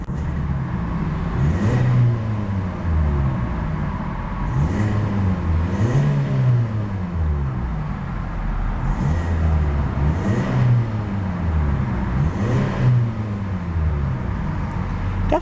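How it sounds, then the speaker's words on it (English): A 2014 Hyundai Elantra Sport's engine revs repeatedly, climbing and falling in pitch several times in a regular pattern, loud and close with no talking. "Definitely a very racy engine note to that little power plant."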